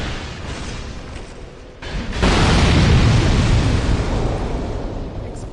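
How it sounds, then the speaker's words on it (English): A loud, rumbling explosion goes off in Dark Souls II, starting abruptly about two seconds in after a quieter lead-in and rolling on as a heavy roar that slowly fades over several seconds. "Explosion."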